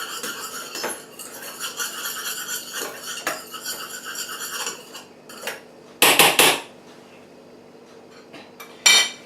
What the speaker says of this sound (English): put this on the stove and stir as it melts